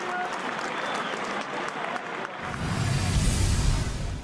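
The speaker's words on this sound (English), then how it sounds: "Warm applause from the fans here in Killarney who like that." Fans at a Gaelic football league match in Killarney, Kerry against Galway, burst into warm applause that rises after a commentator's voice and carries on loud and steady to the end.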